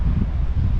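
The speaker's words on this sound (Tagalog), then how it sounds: "Ang lakas ng hangin oh." Strong wind buffets the microphone in continuous low, rumbling gusts outdoors by a lake during a kayak outing, loud and close throughout with no voices.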